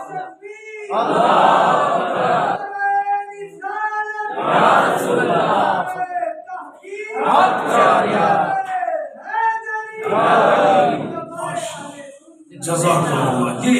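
A crowd at a religious gathering chants devotional slogans in unison, loud and near, in four or five repeated bursts separated by brief pauses.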